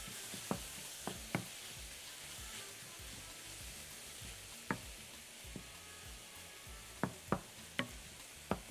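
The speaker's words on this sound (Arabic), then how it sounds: "انا مسخنه الطاسه قوي قوي، وحطيت شويه الزيت ونزلت اللحمه بفرفرها كده فيها" Minced meat frying in hot oil in a very hot pan, a steady hiss of sizzling broken by sharp pops and knocks of a utensil against the pan, close and without talk.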